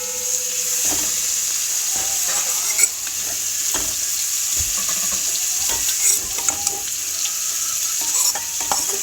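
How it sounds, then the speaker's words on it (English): Seasoned pre-cooked shrimps fry in hot oil in a pot, giving a steady, close hiss of sizzling broken by scattered clinks and scrapes of a utensil stirring against the metal. "I'm gonna allow these shrimps to fry up."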